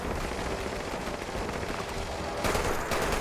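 Dense, continuous gunfire rattles through a boss fight against the Scorched Beast Queen in Fallout 76, a constant roar of rapid shots with a brief louder burst near the end.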